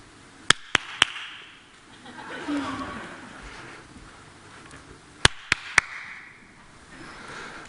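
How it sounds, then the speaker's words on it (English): A single person claps sharp, isolated hand claps in a hall, three quick ones, then a pause with faint audience murmur and a soft chuckle, then three more crisp claps close together. "you have to point where you hear me clapping"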